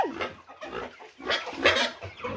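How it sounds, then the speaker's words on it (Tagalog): Farm chickens clucking in a series of short, close calls over about two seconds, with scattered bursts of varying loudness against a light background of outdoor noise. "Mga manok."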